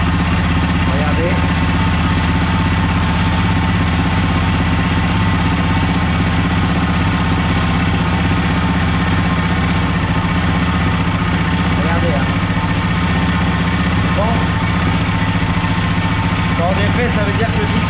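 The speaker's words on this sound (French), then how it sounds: "Allez, contact et c'est parti. On démarre." A 2008 Yamaha Raptor 700 quad engine runs steadily just after start-up during an oil and filter change, a continuous loud idle drone with a low hum throughout.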